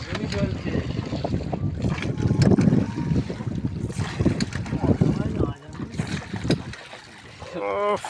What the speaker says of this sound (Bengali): আমাদের ডাঁট টানা আরম্ভ করে দিয়েছে